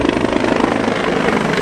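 A Marine Reserve heavy helicopter from Willow Grove flies past at the Rotorfest 2010 airshow, its loud, steady rotor and engine roar filling the air without a break.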